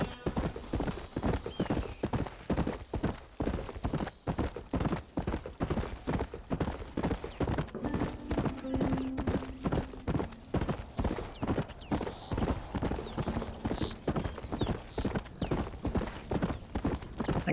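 Horse hooves in the video game Red Dead Redemption clip-clop in a quick, steady trotting rhythm, close and clear, continuing evenly the whole time.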